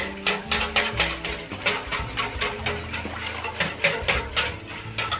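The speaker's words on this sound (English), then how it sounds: "Just incorporate that back in with my whisk." A whisk beats milk in a pot on the stove while it is heated for yoghurt, producing fast, even metallic strokes against the pot that continue rhythmically and close by, with no voices.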